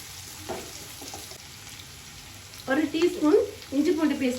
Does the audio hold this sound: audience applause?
no